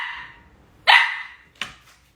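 A hungry pet dog barks at being kept from the cat food: two sharp, fairly close barks about a second apart, the first longer and louder, ending in a short yip, with no talking.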